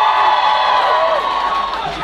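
A comedy club audience of Indians cheers and whoops loudly in a sustained burst of crowd noise and shouting that fades slightly toward the end.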